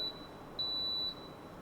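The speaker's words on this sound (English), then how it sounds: "the machine give you a double beep" A Gevi coffee grinder machine gives a double electronic beep on finishing, two short, clear tones with a quiet pause between them against faint background hiss.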